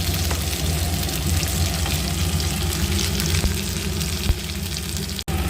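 Fish fry sizzling in hot oil, a dense, continuous crackle heard close up, with a few faint clicks near the end and no talking.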